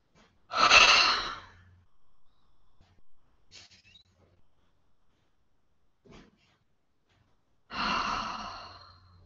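A person yawns during a clearing exercise: two long, breathy yawns open and close the stretch, with quiet breaths and near silence between them, close and alone.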